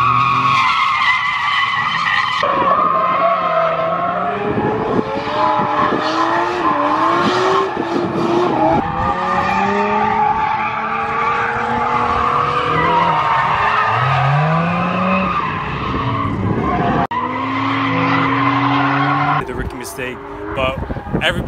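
Tires squeal and skid in long wavering screeches as a car engine revs hard through a drift, with loud crowd noise and voices around it.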